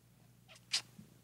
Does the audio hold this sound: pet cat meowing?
yes